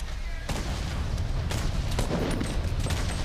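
Grenade launcher explosions go off in a Fortnite competitive match, a rapid series of sharp booms and cracks over a dense rumbling backdrop of gunfire, with commentators talking underneath.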